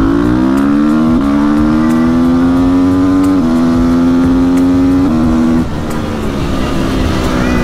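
A 2009 Honda CRF 450 supermoto with a quickshifter, its single-cylinder engine revving hard and loud up through the gears, with the pitch climbing and dropping at each of several quick shifts.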